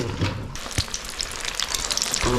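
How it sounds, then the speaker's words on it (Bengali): Prawns and fish frying in a pan at a beach resort in Odisha, a dense steady crackling sizzle that stays close and continuous, with a spatula tapping once and faint clinks scattered through it. "এই হচ্ছে চিংড়ি ভাজা"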